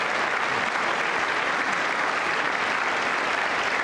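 Dense, steady applause from a large chamber audience at a presidential State of the Union address, loud and continuous without any break.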